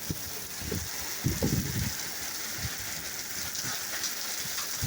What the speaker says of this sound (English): Yeah, got hail.